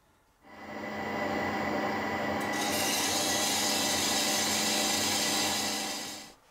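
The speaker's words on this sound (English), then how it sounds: "But I'll start with the hacksaw in the lathe." Hacksaw cutting the end off a steel pipe held in a lathe, a loud continuous rasping saw noise that starts abruptly, runs steadily for about six seconds, then stops, close up with no talking.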